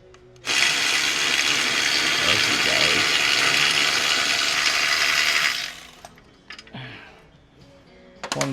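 A socket wrench working a sway bar mount bolt on a Hyundai iLoad van, giving about five seconds of rapid, loud, close ratcheting, followed by quieter clicks and handling noises.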